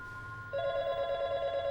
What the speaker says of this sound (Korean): 걸려오는 한 통의 전화